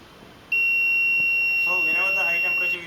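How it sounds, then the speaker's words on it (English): A motorcycle engine-overheat warning alarm sounds as one continuous high-pitched electronic tone, starting abruptly and holding loud for over two seconds before cutting off, with someone talking over the latter half. "so whenever the high temperature will occur, then it will give the buzzing alarm."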